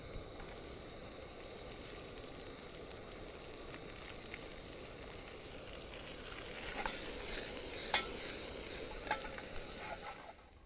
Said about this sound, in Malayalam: സവോള ചേർത്ത് കൊടുക്കാൻ പോവുകയാണ്